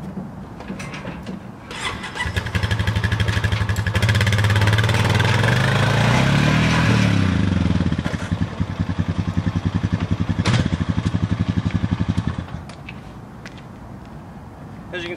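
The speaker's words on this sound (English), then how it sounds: "You just ride the ATV, dirt bike, whatever you have, you can ride it right up, ride it right down." A dirt bike engine revs and idles as it rides up and down a Shark Kage steel truck ramp, loud and near for about ten seconds with rattling clanks, then fading back to quieter idling.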